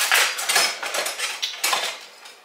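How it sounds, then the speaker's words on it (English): A metal spoon clatters into a kitchen sink, a handful of bright clinks and rattles of cutlery against dishes close by, with no voices. "my spoon. I'm gonna put it there, you know. But let me put it in the sink"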